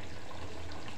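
Water is poured into a pot of chicken curry, a steady, soft rushing splash that runs for about a second with no talking.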